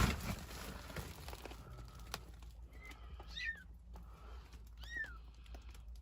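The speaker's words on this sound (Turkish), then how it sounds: "Çünkü başka yavru sesleri de geliyor." Kittens give two or three short, thin meows in a quiet outdoor spot, faint and separated by pauses, over a low background hum and a few soft clicks.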